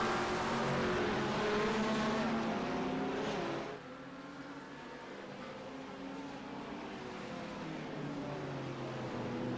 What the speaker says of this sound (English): I thought he was fishtailing, Bryan.